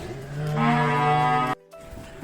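Charolais breeding cows, one six months pregnant, being loaded onto a truck bound for Phetchaburi; a single long, loud moo swells for over a second, then cuts off abruptly, leaving quieter ambient noise.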